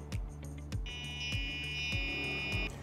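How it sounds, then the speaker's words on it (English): A steady electronic buzz with a high-pitched whine from a trailer brake controller receiving low power, punctuated by five evenly spaced low clicks, fairly close and continuous. "when you hear that noise, it's just because there's low power being sent to the brake controller itself"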